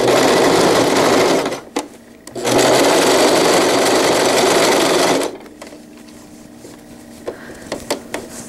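Sewing machine zigzag stitching fabric for a zippered wetbag: loud, close, steady mechanical whirring in two bursts, separated by a short pause, before falling to quiet handling clicks.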